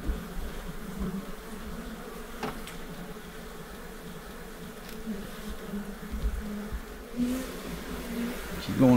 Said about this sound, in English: Some of these bees are still a bit toey